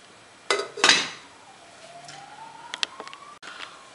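A metal lid clanks onto a pot of moong dal set to boil in a home kitchen, two sharp knocks close together, followed by a faint rising hiss and a few small ticks.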